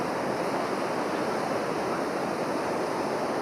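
Ocean surf rolling and breaking at Jeffreys Bay, a steady wash of white noise from the waves, heard alone without talk.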